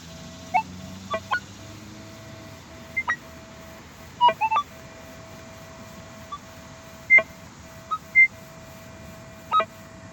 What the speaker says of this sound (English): here's a real weak signal here. It's barely coming in on the audio